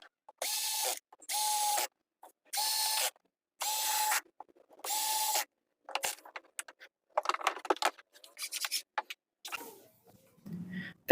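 A repaired impact drill running on 220 volts whirs in five short, even bursts with brief pauses between, loud and close, followed by scattered clicks and handling clatter.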